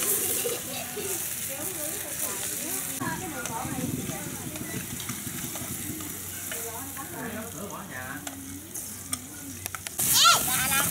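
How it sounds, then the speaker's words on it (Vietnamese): Coconut beetle larvae fry in a hot pan with a soft, steady sizzle and occasional light rattles and scrapes, fairly quiet, while people talk nearby. "Cái này mình chiên nó nóng xíu là nó phình ra nghe các bạn."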